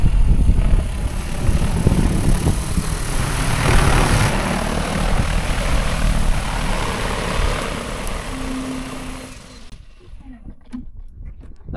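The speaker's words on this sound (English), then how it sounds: "if the drone has RTK, it's going to land within like a couple inches of where it is" Agricultural spray drone with RTK flies in to land on a farm, its loud, steady rotor drone and whine filling most of the clip before cutting off near the end, with faint sounds afterward.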